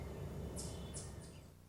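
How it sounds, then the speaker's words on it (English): Gray catbird calling in a garden by damp woodland edge, three short bright calls in quick succession, moderately distant over a steady low background hum. "I hear a catbird up there"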